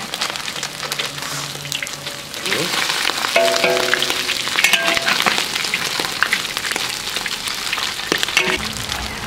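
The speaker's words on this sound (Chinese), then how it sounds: "炸至金黄嘛，可以用锅铲给它压扁一下，扁扁的" Loach frying in a wok of hot oil, a loud steady sizzle with spatula scrapes and knocks against the metal, close and continuous throughout.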